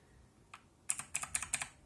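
Close, quiet typing on an Amazon Basics gaming keyboard with soft, linear-feeling keys, a single tap followed by a quick burst of about eight light clacks, with no talking.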